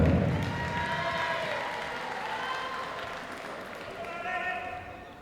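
Applause from the crowd at a schoolboy and schoolgirl boxing championship medal ceremony for the silver medalist, a steady wash of clapping and cheering that slowly fades, with an announcer's voice over it.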